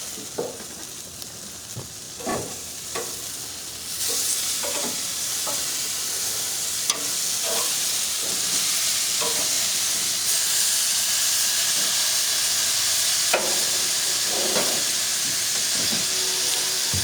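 Meat sizzles loudly on a barbecue grill, a constant close hiss with intermittent scraping clacks from flipping, growing denser and steadier after the pieces are turned.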